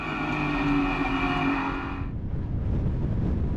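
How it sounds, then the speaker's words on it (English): GT race cars in a 2019 Britcar Dunlop Endurance Championship round at Snetterton circuit, loud engines roaring past at close range, one steady high-revving drone giving way to a rougher, lower engine growl. "up ahead the Seika getting alongside the Porsche as Alan Purbrick tries to get past Peter Cunningham"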